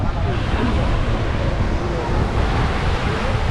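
Steady broadband roar of strong-current Caribbean surf breaking on a beach, with wind buffeting the microphone throughout and no clear pauses between waves.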